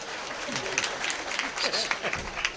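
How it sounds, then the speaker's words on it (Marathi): A kirtan audience claps hands, a scattered wash of claps rising and falling beneath voices speaking and calling out nearby. "टाळी वाजवा."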